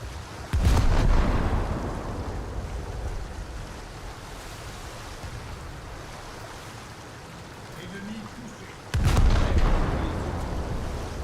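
Heavy naval guns firing armour-piercing shells in a French coastal boat battle video game, two loud booming blasts with long rumbling tails near the start and end, over a steady sea-like roar.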